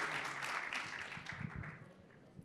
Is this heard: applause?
yes